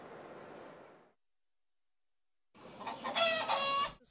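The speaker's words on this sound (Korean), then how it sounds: "수탉이 하염없이 울고 있는 이곳은 뉴욕 40번가의 한 가정집" A rooster crowing in a residential home in New York, a loud, close, drawn-out crow heard alone, preceded by an earlier softer call and a short silence.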